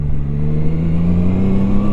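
The engine of a Zontes 703 RR motorcycle, heard close and loud from the rider's position, with a steady, rising drone as the bike accelerates and no talk.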